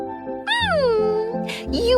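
A cat meows in an animated English fairy tale about a cat princess: one long, drawn-out, close meow that rises and then slides down, followed by short breathy noises.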